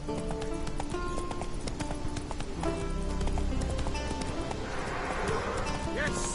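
Roach the horse gallops in The Witcher 3: Wild Hunt, with steady rhythmic hoofbeats under continuous game music and ambience, and a voice speaks partway through.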